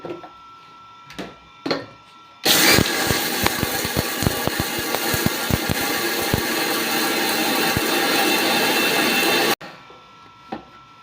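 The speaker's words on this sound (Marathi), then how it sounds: "मी थोडं थोडं करून मिक्सरला फिरून घेते" A mixer grinder whirs loud and steady for about seven seconds as it grinds roasted cumin and chickpea masala for village-style yesur masala, starting and stopping abruptly with a rattling churn throughout.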